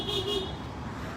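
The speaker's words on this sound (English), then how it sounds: "we got some people honking that blue Subaru" A short car horn toot from a passing vehicle, a blue Subaru, outside city hall during a street protest, brief and moderately loud over steady road traffic noise.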